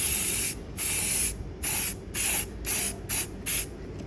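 An aerosol spray can painting a KTM 200 motorcycle part sounds as several close, loud bursts of hissing spray, each about half a second, separated by short pauses as the part is turned; no talking.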